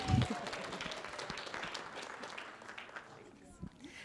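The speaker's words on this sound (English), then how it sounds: "Everyone give Sarah a round of applause." A crowd at a community campfire event applauds with dense, steady clapping that gradually thins out over a few seconds, moderately loud and fairly close.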